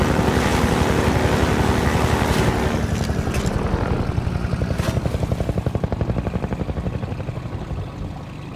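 A Half-Life 2 video game helicopter's rotor thumps rhythmically over a loud engine whine, the beat growing more distinct as the roar gradually fades.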